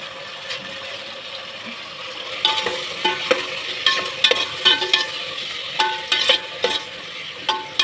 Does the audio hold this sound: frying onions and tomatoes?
yes